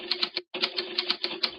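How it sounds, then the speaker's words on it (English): Rapid clacking keystrokes on a keyboard, steady and close with a brief pause partway through, and no voices over the typing. "You just keep typing."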